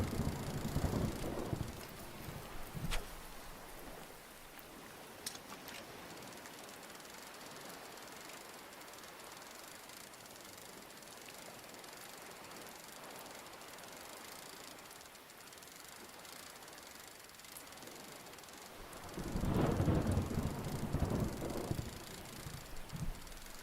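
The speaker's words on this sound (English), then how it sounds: "I'm not really sure if it's such a good idea to fish in the ocean when there's a thunderstorm." Steady rain and stormy wind over the open ocean in the Real VR Fishing game, a constant wash with heavier surges at the start and near the end.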